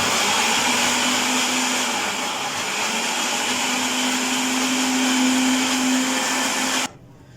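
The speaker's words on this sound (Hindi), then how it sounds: "और अभी हम इसको फिर से ग्राइंड कर लेंगे।" A grinder blends homemade tahini sauce with a loud, steady motor whir that runs for about seven seconds and then cuts off abruptly.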